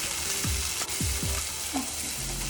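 Onion and peppers sauté in olive oil in a pan, giving a steady close sizzle broken by a few quick spatula scrapes.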